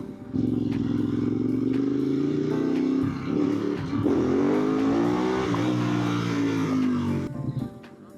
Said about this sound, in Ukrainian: О, машина уїхала, все.